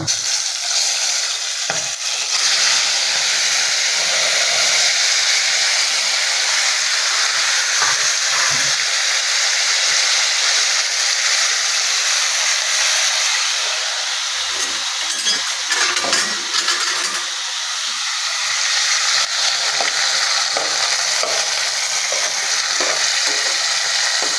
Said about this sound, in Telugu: టమాటా పోపు గోలుతుంది.